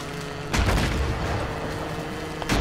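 In the video game A Way Out, a loud explosion booms up close, its heavy low rumble rolling on under dense noise, with a second blast starting near the end.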